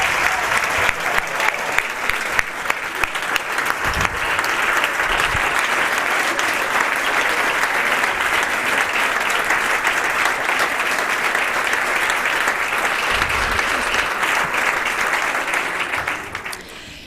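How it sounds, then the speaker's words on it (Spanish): An audience at a political event in Spain breaks into sustained applause, dense clapping filling the room evenly for about sixteen seconds before tapering off at the end. "También un fuerte aplauso para Javier."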